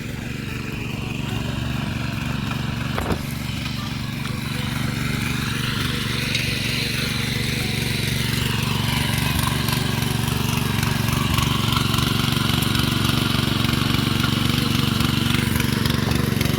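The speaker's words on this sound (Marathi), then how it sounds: "बघा मंडळी अशा प्रकारे ट्रॅक्टरांनी चिखल करायचं" A tractor engine puddling a paddy field drones steadily and loudly throughout, a low continuous rumble with a churning mechanical clatter, close by and unbroken.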